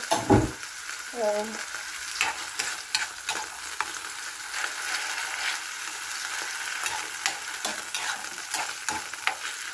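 Beef frying in olive oil for tacos, a close, continuous sizzle broken by repeated clinks and scrapes of a utensil stirring the pan, with a brief tonal squeak near the start.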